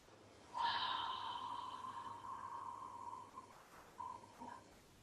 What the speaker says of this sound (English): So deep, long, extreme exhale.